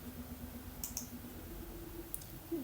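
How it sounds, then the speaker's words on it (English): A few sharp, quiet computer mouse clicks sound in a hushed room during a Windows 11 software install, two quick pairs of clicks spaced apart over a faint steady hum. "Now click on next."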